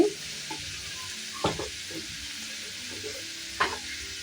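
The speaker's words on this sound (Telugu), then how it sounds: "ఆనియన్స్ కొద్దిగా బాగా ఫ్రై అవ్వాలి." Onions fry for egg burji with a low, steady sizzle in the pan, broken by a few brief spatula scrapes and clinks; no voices.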